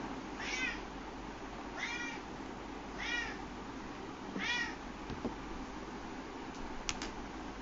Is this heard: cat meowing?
yes